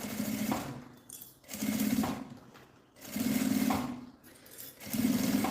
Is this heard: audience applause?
no